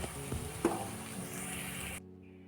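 Luchi frying one by one in hot oil, a steady close sizzle with a sharper crackle early on, cutting off abruptly into silence.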